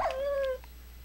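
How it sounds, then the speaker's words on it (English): A dog whimpers while drowning in the Minecraft video game, a single high, thin whine lasting about half a second, close and clear, then fading to quiet. "our dog just died because he teleported into the water and drowned"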